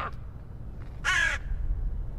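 A man imitates a crow with a single short, harsh caw, loud and close, standing out briefly against a steady background murmur.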